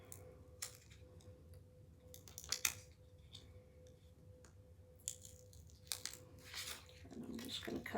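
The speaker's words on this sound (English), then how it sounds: "And I'm just going to cut this off." Scissors snip through adhesive vinyl cut from a garden flag, a handful of short, quiet crisp cuts and rustles scattered across a soft, close-up background.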